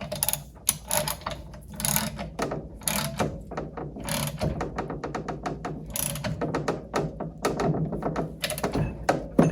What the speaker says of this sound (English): I'm going to transition back to the ratchet.